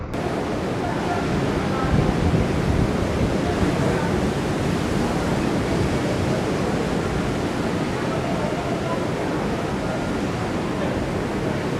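Ocean waves break on the beach at Varkala in a dense, continuous roar of surf, mixed with some wind buffeting the microphone.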